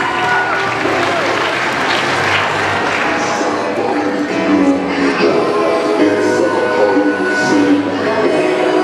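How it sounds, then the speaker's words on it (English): A group of women applauding a man's ice cream eating at a male pageant, loud sustained clapping with crowd noise and some voices mixed in throughout. "After he finishes, the ladies applaud his ice cream eating skills."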